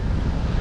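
Wind blowing at South Fort Lauderdale Beach, Florida, a steady low rumbling buffet against the microphone with a hint of surf underneath, continuous and fairly loud with no voices.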